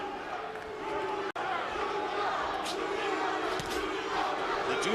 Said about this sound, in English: The Judah fans in the crowd trying to chant for their man